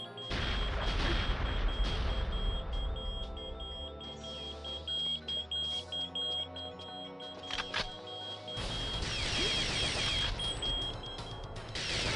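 A grenade blows up in the video game Perfect Dark, a loud burst of crashing noise, then a quieter stretch with an electronic alarm tone before another heavy blast near the end.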